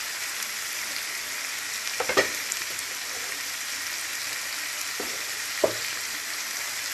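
Curry leaves and green chillies sautéing in a pan for wheat dosa, a fairly loud continuous sizzle with a few sharp crackles and stirring clicks and no voices.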